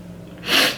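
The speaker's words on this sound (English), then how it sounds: "I just sneeze." A single short, sharp human sneeze, close and fairly loud, with a brief breathy intake before the burst and no talk over it.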